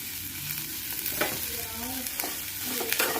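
Cumin seeds and asafoetida frying in hot oil in a pan, giving a close, continuous sizzle with a few scraping stirs and light pops, with no one talking.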